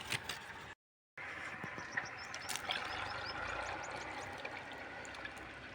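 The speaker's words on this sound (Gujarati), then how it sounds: "તો હું પહેલાં પાણી નાખી દઉં બેયમાં." Water is poured into two plant pots at a farm, heard as a steady splashing rush that cuts out briefly near the start and then continues evenly at low level.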